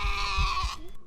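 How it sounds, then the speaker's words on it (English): A goat bleats once in the horror game Phasmophobia, a loud, wavering cry lasting under a second that cuts off abruptly, heard alone with no talk. "the goat"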